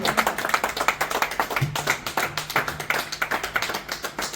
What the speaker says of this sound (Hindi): वो जब तक मंच तक आए अपने डायस तक बढ़ने के लिए, तो तालियां बजती रहे।